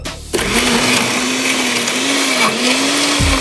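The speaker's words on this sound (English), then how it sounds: "Now we blend." A kitchen blender kicks on after a brief quiet moment and whirs steadily with a droning motor hum, blending a coffee drink close to the microphone, with no talking.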